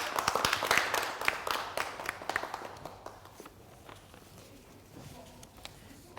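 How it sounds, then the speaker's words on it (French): An audience applauds on a TV entertainment show as a guest walks onto the stage, with scattered claps loud at first and then fading to a sparse, faint patter. "Merci de l'applaudir pendant qu'il nous rejoint"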